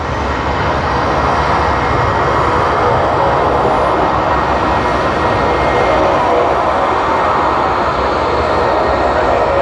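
A Link Airways aircraft at Sydney Airport gives a steady, loud engine drone that stays constant throughout, with faint talk in the background.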